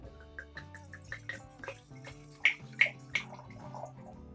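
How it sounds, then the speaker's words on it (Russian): Liquid gurgling out of a bottle during a tasting of Fanagoria wine, a few soft glugging bursts against a quiet backdrop of faint clicks and tones. "Как она булькает приятно,"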